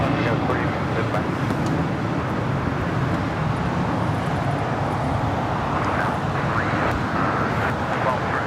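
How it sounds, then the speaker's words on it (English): A Hawaiian Airlines Airbus A330 arriving from Honolulu rolls along an LAX taxiway on a foggy morning, giving a steady broadband jet-engine roar with wind and traffic-like rumble, continuous and fairly loud throughout. "That is the Hawaiian A330 coming in from Honolulu, flight 78, making that left-hand turn onto Lima."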